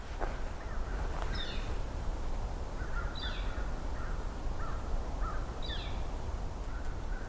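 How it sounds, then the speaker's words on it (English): Several American crows caw in repeated short bursts of two or three calls, moderately distant outdoors over a steady low background hum, with northern flickers nearby. "We got 2 flickers and an American crow,"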